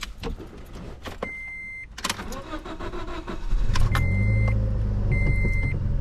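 A 2008 Scion xD fitted with a DIY exhaust and cold air intake, check engine light on, cranks and fires up after a few electronic chimes, then settles into a low, steady idle.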